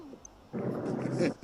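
A voice imitates the crying call of a gray bird, a drawn-out, hoarse, wavering wail delivered up close and fairly loud, breaking off briefly before resuming.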